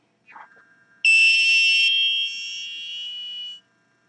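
Arduino multi-function shield piezo buzzer driven at a 10 ms interval gives a steady, loud, shrill continuous tone lasting over two seconds. A brief faint click comes just before it, and the tone drops slightly in level partway through before cutting off.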